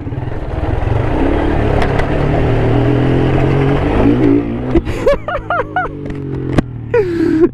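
A motorcycle engine on a staircase rumbles steadily, then revs climb in rising whines near the end, with clattering and a few brief voices.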